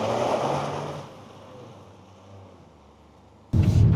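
A Toyota GR Yaris GTS driving off-road on gravel in gravel mode, with a broad rumbling roar that fades to a quieter drone before a loud, close surge of engine and gravel noise at the end.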